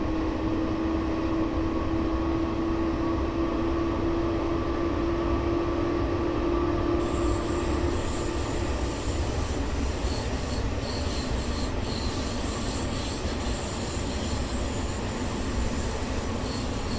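A train pulls into Berlin Potsdamer Platz station, its wheels squealing in a steady high metallic screech over a continuous rumbling roll, loud and close for the whole stretch, with no talk.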